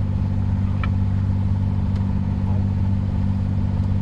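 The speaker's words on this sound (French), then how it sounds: "on aura du coup utilisé le moteur pendant tout le trajet" A sailboat's inboard engine runs steadily under way at sea, a loud continuous low droning hum with no breaks.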